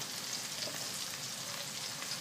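Red onions sizzle in a frying pan for a pork tenderloin and vegetable stir fry, a steady soft crackle and hiss with no talk over it.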